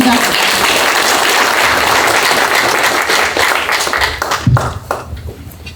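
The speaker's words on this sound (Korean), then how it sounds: "우리 김봉환 동지께 다시 한번 박수 한번 보내주시기 바랍니다" An audience at a Korean construction workers' union delegates' convention gives sustained, dense applause that rings out loudly, then thins and tapers into scattered claps.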